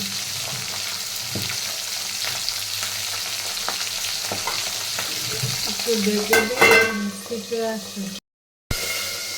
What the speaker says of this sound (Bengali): মাছ ভাজাও বসাই দিয়েছি